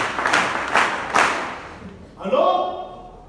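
Congregation in a church clapping and cheering in a few rhythmic waves of applause, then a voice rises over it near the end.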